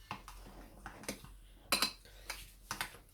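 A utensil stirring chile in a cooking pot, knocking and scraping against the sides in a quiet, irregular series of clinks with short gaps between strokes.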